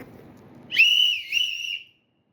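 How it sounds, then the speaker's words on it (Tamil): A plastic Chennai Super Kings cricket fan whistle is blown twice in quick succession, a loud, shrill, close blast with a slight warble, ending in silence. "ஸோ நெக்ஸ்ட் வந்து பார்த்தீங்கன்னா ஒரு விசில் போடு."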